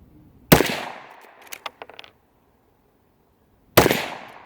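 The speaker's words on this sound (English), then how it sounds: "We're shooting CCI game point, 40 grain jacketed soft point at 1875 feet a second" An Ithaca saddle gun rifle fires CCI Game Point 40 grain jacketed soft point rounds outdoors: two loud, sharp cracks about three seconds apart. Each trails off in a decaying echo, with a few light clicks between them.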